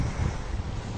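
Sea waves and wind at a Mactan Island beach resort, a steady roar of surf and wind buffeting the microphone, heavy and continuous with no voices.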